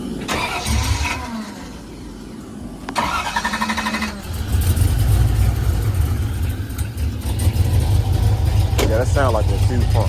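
A Box Chevy with a newly installed cam cranks and fires up partway through, then settles into a loud, close, lumpy idle that rumbles steadily while people talk over it.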